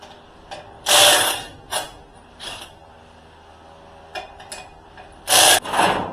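A handheld plasma cutter slices through the thin sheet metal of car fenders, giving short loud hissing bursts with quiet pauses between them, plus a few fainter scraping clicks.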